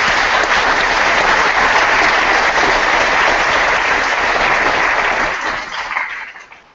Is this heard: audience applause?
yes